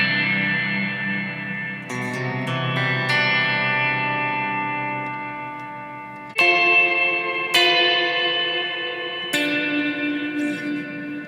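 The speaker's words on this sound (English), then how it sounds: "Turn the decay way up here." An electric guitar played through the Enya NOVA GO SONIC with its reverb decay turned far up, loud sustained chords and notes ringing into long washes of reverb, with fresh strums at intervals piling over the lingering tail.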